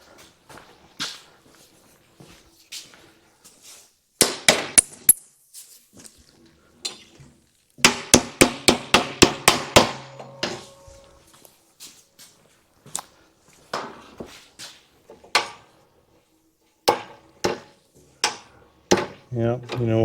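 A punch is hammered through a part on a Yamaha Twin Jet motorcycle frame. The sharp metallic blows come singly, then in a quick run of about a dozen, then in scattered strikes, in a quiet workshop.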